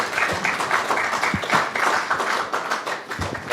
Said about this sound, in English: A round of applause as they go back